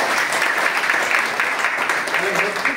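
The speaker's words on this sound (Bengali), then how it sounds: "সিস্টেমের জন্য একবার জোরদার করতালি।" A crowd at a business marketing meeting bursts into loud, sustained clapping, dense and steady from start to finish.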